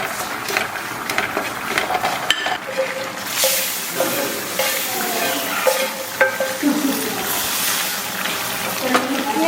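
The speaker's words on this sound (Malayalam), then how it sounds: "ഈ ഉള്ളി നന്നായിട്ട് നല്ല ബ്രൗൺ കളറിൽ മുരിഞ്ഞ് വരും" Onions fry toward brown with mustard seeds and added chicken masala, a close, busy sizzle with stirring scrapes and occasional spatters throughout, and a soft voice in the background.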